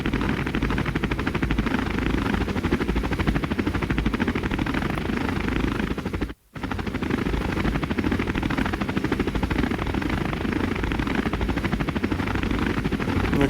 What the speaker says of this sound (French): on va peut-être y aller en hélico.